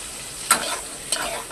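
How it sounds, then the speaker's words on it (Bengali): Okra frying in a pan in a home kitchen, a continuous soft sizzle with two brief stirring clinks from a spatula, close and fairly quiet, with no voices. "ভাজটা ভেজে নিলেই রান্না করা হবে ঢেঁড়স।"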